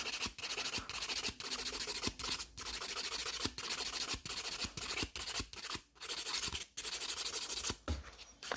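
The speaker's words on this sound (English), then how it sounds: "with the 180 grit, I'm just scratching the surface of my natural nail plate" A 180 grit nail file scrapes a natural nail plate in short, rhythmic back-and-forth strokes. The rasping is close and quiet, with brief pauses between the strokes.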